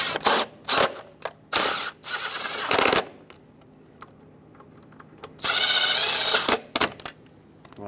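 Ratchet snugging the throttle body bolts on a 2003-2009 Dodge Ram 2500 with a 5.7L V8: quick bursts of rapid clicking, several short runs and then a longer one, close and without talk.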